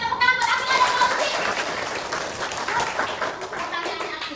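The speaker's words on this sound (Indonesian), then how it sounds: "tepuk tangan buat Akila dan Fauzi" A classroom of children applauds two students, brisk clapping from many small hands with young voices chattering underneath, loud at first and gradually thinning out.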